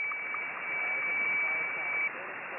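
A steady high tone sits over hissing static on an HF ham radio band, an SSTV-like signal received loud and constant, cutting out near the end while the noise continues.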